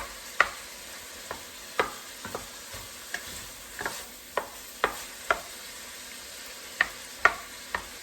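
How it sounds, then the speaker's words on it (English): Vegetables cooking in a pan on a stove at medium heat, a soft steady sizzle punctuated by regular sharp scrapes and taps of a spoon stirring, close up and without speech. "But I want these vegetables to cook up a little bit"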